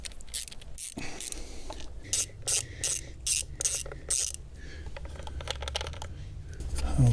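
A hand ratchet clicks in repeated bursts while tightening small screws during a car spark plug job, close and fairly clear over a low background hum, with no talk.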